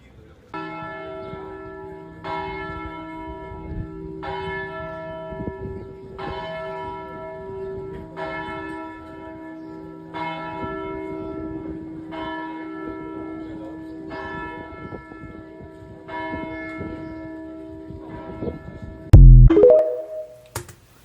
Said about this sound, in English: A little bit of bells, small bells are still left, and sometimes they play them and it's just so beautiful.